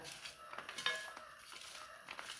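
Bitter gourd being stirred with salt in a pot, giving soft scraping clinks of a spoon against metal, quiet and steady with a few brighter knocks.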